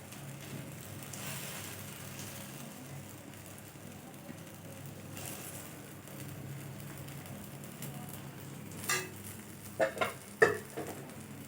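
A masala dosa fries on a hot restaurant-style pan with a soft, steady sizzle, faint and close, broken near the end by a few sharp scraping taps.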